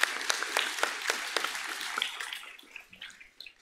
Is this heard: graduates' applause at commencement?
yes